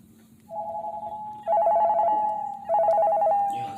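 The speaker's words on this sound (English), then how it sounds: "I remember hearing my cell phone ring throughout the night." A cell phone rings indoors with a warbling electronic tone in three close, steady bursts over a faint low hum.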